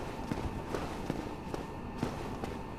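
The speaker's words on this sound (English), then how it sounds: "And I can hear footsteps too." Footsteps in Dark Souls fall in a steady walking rhythm, roughly two per second, moderately close over a dense ambient rumble.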